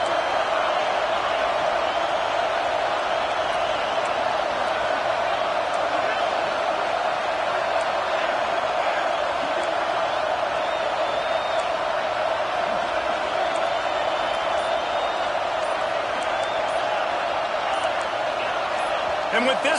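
A dense stadium crowd roars steadily and loudly throughout at a rocking college football venue in an NCAA football video game, with the noise holding an unbroken wall of sound for the whole stretch.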